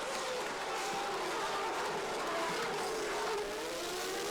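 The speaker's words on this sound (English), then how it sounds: "Hill is bogged down, while Häkkinen leads the charging pack down to La Source, with Villeneuve moving into second place." Formula 1 cars from the 1998 season roaring off the grid at a wet race start on a drenched circuit, a dense continuous wall of engine noise and spray with no gaps, loud and sustained throughout.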